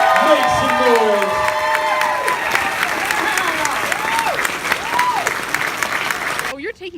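A Wizard World Columbus Comic Con crowd bursts into loud, sustained applause with cheering and whoops for the costume winners. Scattered voices shout over the clapping until the noise cuts off at the end.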